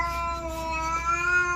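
A cat gives one long, drawn-out meow close by, steady and wavering, with no talking over it.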